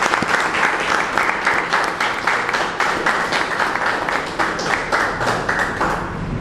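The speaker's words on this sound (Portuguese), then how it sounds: "Um aplauso." Audience at a press conference for the 2017 Festival di Tumba breaks into dense, steady applause, a thick wash of many hands clapping close and loud for the whole stretch.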